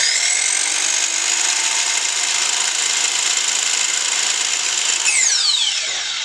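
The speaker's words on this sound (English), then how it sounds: "So I'll cut that, and then I'm just going to shave the end and make sure it's a nice cut and go really slow." A power saw whines steadily through wood cut for a simple picture frame, a long even high-pitched buzz that ends in a brief pitch drop as the blade spins down, with no talking.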